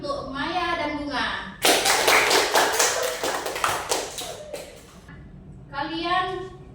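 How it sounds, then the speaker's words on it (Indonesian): A classroom of students claps for two classmates in a short, dense burst of applause lasting a few seconds, with a teacher's voice speaking before and after it. "Berikan tepuk tangan untuk Maya dan Bunga."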